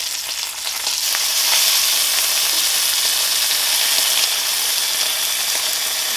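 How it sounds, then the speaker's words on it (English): Bacon strips frying in a pan give a steady, loud crackling sizzle with fine popping and spatter throughout, close and continuous with no voices. "You gotta watch because bacon does splatter and it burns"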